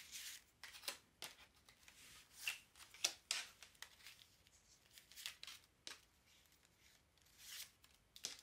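Tarot cards being shuffled by hand before a reading, a soft papery riffling and sliding that comes in repeated quick bursts with brief pauses, close and fairly quiet with no voice over it.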